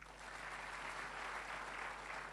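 A church congregation claps at a sermon, a faint, even wash of continuous applause that holds steady without pauses.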